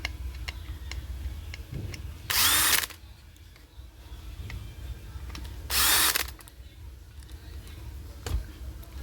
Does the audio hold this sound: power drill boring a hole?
yes